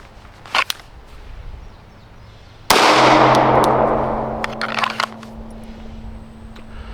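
A single loud gunshot from a Wilson SFX9 pistol cracks out close by and rings off into a long fading decay, after a couple of faint clicks and small knocks.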